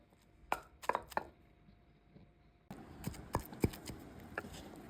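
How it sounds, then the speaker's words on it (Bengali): Dried chepa shutki fish being pounded by hand into a bharta, giving a few sharp, close thuds in short clusters with quiet gaps, growing denser and louder toward the end. "এইরকম ছেঁচে ভর্তাটা বানাবো"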